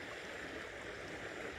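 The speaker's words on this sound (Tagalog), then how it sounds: "Andito ngayon tayo sa tabing dagat, tabing ilog." Steady river water rushing along a riverbank near the seashore at sunrise, a continuous broadband wash of flow and gurgle with no pauses and no voices.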